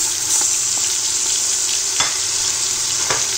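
Tomatoes hitting a pan of caramelized onions for Moroccan vegetable couscous, a loud, continuous sizzle and hiss with a few soft clicks of stirring, close up and alone.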